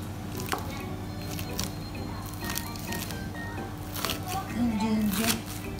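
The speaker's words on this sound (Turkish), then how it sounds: "Soğanımız kavrulurken yeşillikleri doğrayacağım" A knife chops fresh herbs on a cutting board with irregular, fairly close taps, mixed with kitchen clatter and onions sizzling in a pan in the background.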